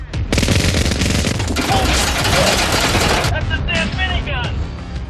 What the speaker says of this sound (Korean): 6개의 배럴에서 분당 수천 발의 총알을 쏟아내고